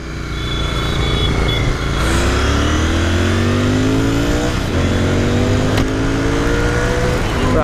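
A Royal Enfield Interceptor 650 twin-cylinder motorcycle engine pulls hard and loud. Its pitch climbs steadily, drops at each gear change, then rises again.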